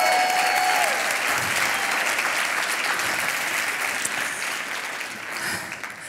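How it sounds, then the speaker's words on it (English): A live audience at a feng shui talk breaks into a dense, sustained round of applause, loud and continuous before it gradually thins out. "Give them a round of applause,"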